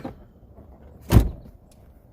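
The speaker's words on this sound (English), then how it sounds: "Then close the door." The door of a 1994 Mercedes-Benz S500 two-door coupe is shut from inside the cabin, giving a single solid thud at mid-clip in a quiet interior, with a faint second knock at the end.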